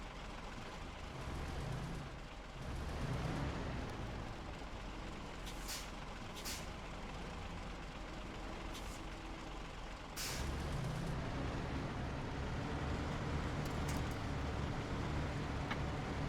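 A truck engine rumbles and strains in the video game SnowRunner while the truck reverses to push another truck. The low drone is steady and close, broken by several sharp air-brake hisses.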